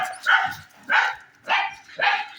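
A dog barks four times in a slow, evenly spaced series, each bark sharp and fairly close, with short quiet gaps between them.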